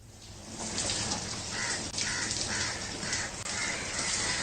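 Steady drizzle falls across Mumbai streets, a continuous soft hiss of rain and dripping water with faint crow-like calls repeating in the background, no talking.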